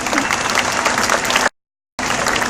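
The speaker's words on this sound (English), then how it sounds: "Let's give a round of applause," Audience at a seal show at a zoo in Sydney, Australia, clapping loudly and steadily, a dense sustained applause with a short break in the middle.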